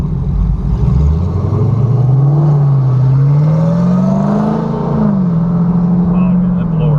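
Supercharged Dodge Challenger Hellcat V8 with resonator deletes and stock mufflers, no headers, rumbling loudly close by with a deep droning tone that climbs and dips through revs under the whine of the blower, voices talking over it.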